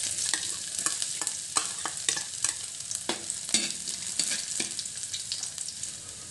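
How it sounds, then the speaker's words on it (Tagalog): Garlic sautéing in hot oil for a Filipino sarciado fish sauce: a steady sizzle broken by frequent crisp crackles and light stirring taps, close and with no one talking. "Gigisa lang ako ng bawang."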